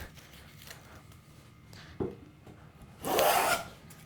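A hand plane is pushed along the edge of a wooden board and takes off shavings. There are faint scraping strokes, then one louder, longer rasping pass near the end.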